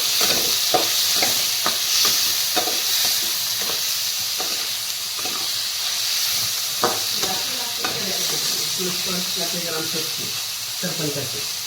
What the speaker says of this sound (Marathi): बघा गोबी आणि पनीर कसं फ्राय झालेलं आहे आपलं